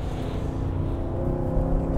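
The V8 engine of a 2024 Nissan Patrol SUV hums low and steady under throttle on a track, a muffled, continuous drone heard from inside the cabin at moderate level with no talk.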